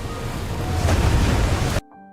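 Storm waves batter a ship at sea in a film scene, a loud dense roaring rush of water and wind that swells toward the middle, then cuts off abruptly near the end into a quieter tonal sound.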